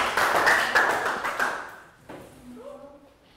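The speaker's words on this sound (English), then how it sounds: "Round of applause for Chu." Schoolchildren in a Year 3 English class clap as a group, a loud burst of applause that fades within about two seconds, followed by quieter sounds.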